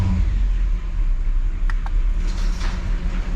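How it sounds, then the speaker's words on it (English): A 1959 Chevrolet Bel Air V8 idling slow just after starting, a steady low rumble close by with a couple of faint clicks over it. "I just turn the key and start it and let it just idle dead slow until the oil pressure"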